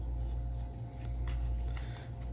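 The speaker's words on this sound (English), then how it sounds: "We will shuffle these a little bit here." A deck of board game cards shuffled by hand during a tabletop game, with soft riffling and sliding bursts at irregular intervals over a steady low room hum, no talking.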